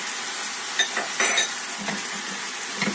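Tomatoes and peppers with chili flakes stirred in a frying pan for a meat sauté, a steady sizzle under a few scraping utensil strokes and light clinks against the pan.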